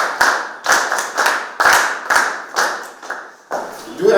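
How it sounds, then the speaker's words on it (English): A Grade 11 biology class claps for a student in bursts, with loud close claps that come and go in short rounds and brief gaps between them. "You can also clap for her."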